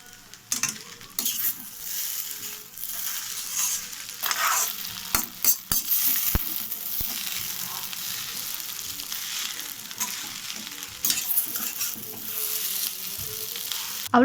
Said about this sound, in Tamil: கடைசியாக கொஞ்சமாக பெப்பர் ஆட் பண்ணி நல்லா ஃப்ரை பண்ணி விட்டுறணும்